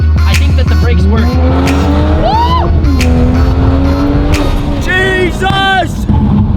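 A 2020 Toyota Supra brakes hard with loud, repeated tire squeals rising and falling over engine noise, while excited voices talk and shout inside the car.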